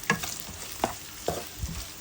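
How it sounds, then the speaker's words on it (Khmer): Pork sizzles in a hot pan with garlic and palm sugar, with a few sharp scraping stirs cutting through the steady frying hiss; no one speaks. "យើងឆាជាមួយនឹងសាច់ជ្រូកនៅក្នុងខ្ទះនេះចូល"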